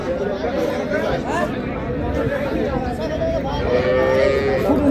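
Cattle low at the Raniganj livestock market in Dinajpur, where dairy cows and calves are traded; a few drawn-out moos rise over constant loud crowd chatter and voices.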